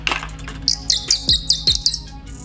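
A Supreme-branded bird call whistle blown close by, giving a quick series of about six shrill, chirpy tweets in an uneven rhythm, with no talking over it.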